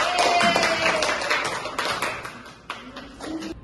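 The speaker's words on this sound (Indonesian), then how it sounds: "Tepuk tangan untuk Mbak Nisa." Classroom applause for a student after a number-line exercise in a lesson on integers: a short burst of scattered hand claps, fairly close, thinning out over a few seconds with faint voices underneath.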